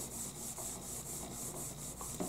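Brass being polished with Brasso and a light shop cloth, a steady close, soft rubbing sound with regular back-and-forth strokes, heard alone.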